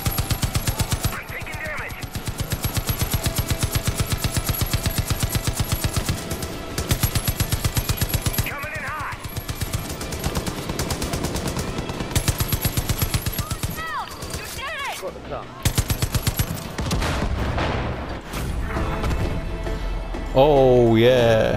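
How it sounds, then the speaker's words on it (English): Anti-air guns fire in rapid, continuous bursts in Far Cry 5, set in Hope County, loud and close, with brief pauses between volleys and a voice speaking over the shooting. "Anti-air guns?"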